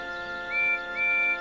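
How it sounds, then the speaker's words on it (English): Two short high steam whistle toots from a small tank engine in a children's animated railway story, clear and bright, each a steady pure tone of under half a second, close and alone. "Whistled Percy."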